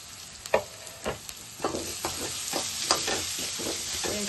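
Cut cabbage and carrot pieces fry in a pan while pasta is prepared. A soft sizzle runs beneath a series of rhythmic stirring scrapes, roughly one every half second, and the sound is close with no talking.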